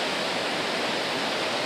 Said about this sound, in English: This is where the flow of water starts.